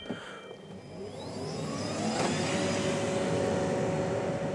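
An eco car accelerating hard from a start in power mode, the engine rising steadily in pitch and loudness and holding a strong, even drone to the end.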